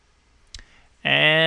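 A single sharp mouse click saves a lesson plan entry on a website, followed shortly after by a voice beginning to speak.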